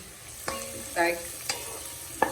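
Onion and garlic fry for marinara sauce in a steady close sizzle, broken by a few distinct stirring scrapes and clinks.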